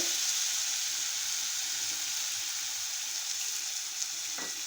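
Ginger, garlic and green chili paste sautéing in a pan, a steady close sizzle holding evenly throughout with a faint scrape of stirring near the end.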